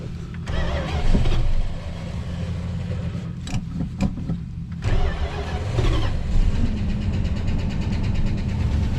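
A 1973 Dodge Dart Sport cranks over and catches, then settles into a loud, close, rumbling idle, with a brief lull and a few clicks partway through.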